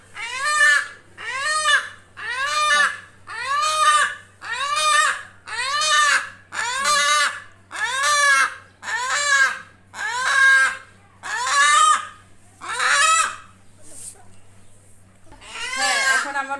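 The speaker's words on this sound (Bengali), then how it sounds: "মুরগিটা আমার বাসার মায়ায় কান্না শুরু করে দিচ্ছে, যেতে চায় না" A farm chicken being handed to a buyer lets out loud, close, repeated squawking cries, about one per second, a dozen or so in an even rhythm before a short pause and one more call.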